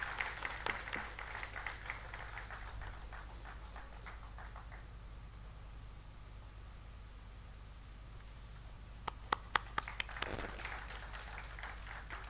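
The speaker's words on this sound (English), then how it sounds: "Huge round of applause, ladies and gentlemen." Audience applause at an industry–academia conclave, scattered clapping near the start that fades to a low murmur, then a short burst of sharp claps returning near the end over steady room hum.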